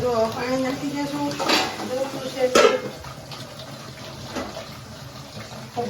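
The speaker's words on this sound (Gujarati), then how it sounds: "જો પાણી નાખી દઈશું." Water is poured into a cooking pot of vegetable curry on the stove, a gushing, splashing fill with a clank of the pot, while a person talks over it.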